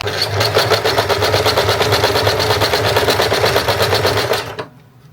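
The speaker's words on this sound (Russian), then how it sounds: "я не стала сметывать, а строчу по меловым линиям" A sewing machine stitches swimsuit fabric along chalk lines in a fast, even, loud rattling run that stops abruptly near the end.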